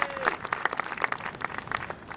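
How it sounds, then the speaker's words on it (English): Crowd applause in the video game F1 2021, with distinct claps, bright and fairly close, fading slightly toward the end. "give yourselves a round of applause."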